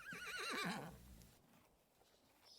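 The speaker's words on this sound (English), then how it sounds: "She's a beautiful grey Icelandic horse named Glimmer" A grey Icelandic horse whinnies loudly and close, its wavering neigh rising and falling for about a second before fading into quiet breathing-like rustle.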